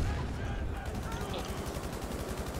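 Rapid automatic gunfire from Battlefield V, a dense continuous burst of repeated shots carrying through the whole stretch, loud and close, with background game noise underneath.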